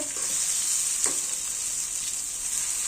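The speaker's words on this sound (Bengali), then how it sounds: "আমি এখানে টমেটো আর মরিচটা দিয়ে দিচ্ছি, এটা দিয়ে একটু নেড়ে ছেড়ে টমেটো নরম করে নিব" Tomato and green chili stir-fry with pabda fish in a pan, a steady close sizzle broken by one brief scrape of stirring.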